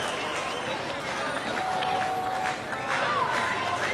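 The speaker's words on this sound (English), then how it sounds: "You hear the raucous applause of the Puerto Rico fans in attendance" Puerto Rico fans from Guayama applaud and cheer raucously at a Little League World Series baseball game, a steady, dense crowd roar lasting throughout with scattered voices and whistles.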